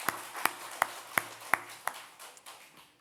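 Slow, evenly spaced claps in church, about six sharp strikes under faint music, tailing off into a softer patter.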